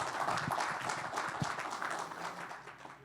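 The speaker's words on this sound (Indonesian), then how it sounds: "Tepuk tangan buat Tuhan." A congregation applauds during a church sermon, with sustained crowd clapping heard at some distance and fairly faint, forming an even rattle for about three seconds.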